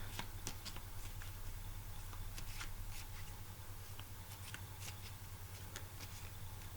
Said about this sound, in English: I'm just going to close my eyes and shuffle the cards.